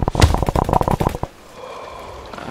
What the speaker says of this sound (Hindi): यो जो गार्ड का गोली चला रहा है।